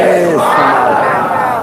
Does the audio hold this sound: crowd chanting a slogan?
yes